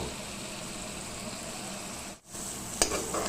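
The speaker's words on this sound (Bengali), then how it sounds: "দিয়ে দিলাম টমেটোর পেস্ট সবগুলোকে ভালো করে ফ্রাই করব পাঁচ মিনিটের জন্য" Tomato paste and spices frying in a pan, a steady close sizzle with a brief dip near the middle and a small clink of a utensil toward the end.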